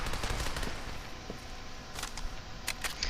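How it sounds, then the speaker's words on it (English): Heavy machine gun fire in the shooter game Legendary, rapid bursts of shots with sharp cracks standing out over a dense battle din. "that heavy machine gun in their hands does tons of fucking damage"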